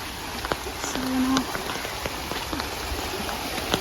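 Steady rain falling and pattering on surfaces outdoors, a constant wash with scattered individual drop hits, fairly close, with no talk over it.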